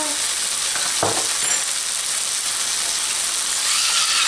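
Garlic and Rotel tomatoes fry in a hot pan, giving a steady, loud sizzle with a brief clatter of stirring near the start.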